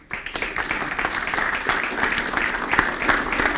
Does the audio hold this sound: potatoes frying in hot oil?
no